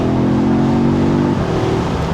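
A 2021 Audi S3 Sportback pulls hard under full throttle, its engine drone climbing steadily before a brief dip as it shifts gear, heard loud and close from inside the cabin.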